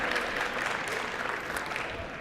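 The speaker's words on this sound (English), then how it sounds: "You're allowed to clap." A crowd applauding steadily at a university athletics awards banquet, a dense patter of many hands clapping at once, sustained throughout the moment.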